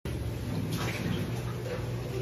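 Shower water runs steadily from an overhead head in a home bathroom, a dense continuous hiss close by with a brief faint voice underneath.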